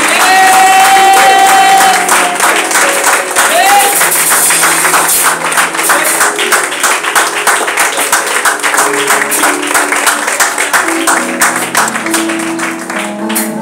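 A church congregation claps and cheers loudly and steadily, a dense wall of applause and shouts over music, fading slightly toward the end.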